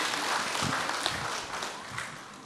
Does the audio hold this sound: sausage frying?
no